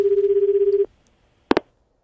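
A telephone line during a customer service call gives a steady, pulsing tone for almost a second. After a brief silence come two quick, sharp beeps close together, with no voices.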